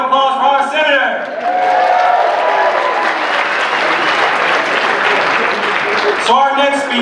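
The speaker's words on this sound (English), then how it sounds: "Let's give another round of applause for our senator." A party dinner audience applauds their senator at a Nevada Democratic Party event, a loud, full round of clapping that swells in after a voice and gives way to talk again at the close.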